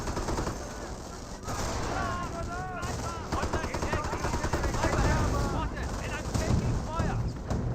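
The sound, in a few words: gunfire between snipers and riflemen in video game Company of Heroes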